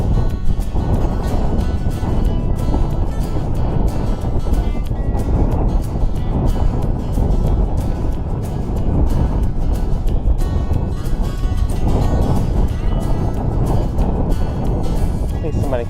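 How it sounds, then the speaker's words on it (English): Strong gusting wind roars steadily across an outdoor spot on a blustery day, a dense low rumble buffeting the microphone for the whole stretch with no letup. "Really a windy day today."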